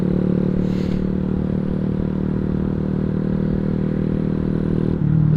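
A Boom Vader 125 street legal dirt bike engine drones in a steady low hum, loud and unbroken, with a brief dip near the end and no voices.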